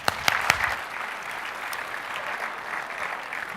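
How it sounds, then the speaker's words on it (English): A conference audience gives a round of applause, opening with a few sharp nearby claps and then settling into steady, moderately loud clapping with no talk. "Give yourselves a round of applause."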